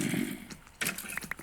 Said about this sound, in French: Ça, c'est le bruit des squelettes qui crament.